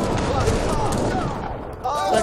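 Cannons fire on infantry in an Age of Empires III battle, a loud rolling mass of booms and overlapping blasts with a voice talking over the din.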